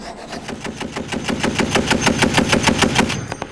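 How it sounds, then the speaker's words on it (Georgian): A heavy machine gun fires a long sustained burst, rapid evenly spaced loud shots with a deep thumping rhythm, close by and without speech. "ამერიკული 50 მმ-იანი ტყვიამრქვევი M2-დან მიზანში სროლას ხვეწენ"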